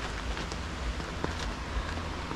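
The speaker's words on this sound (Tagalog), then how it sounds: "Yung ulan magdamag eh." Rain falling at a campsite through the night, a steady broadband patter on surfaces with low wind rumble underneath, close and continuous with no voices.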